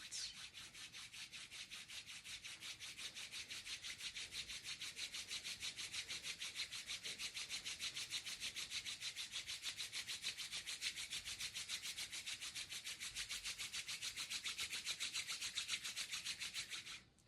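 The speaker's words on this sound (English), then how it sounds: "start to rub your palms of your hands together to bring some heat" Palms of the hands rub briskly together in a steady back-and-forth rhythm, a close, even, hissing friction that holds for about seventeen seconds and then stops abruptly, with no talking.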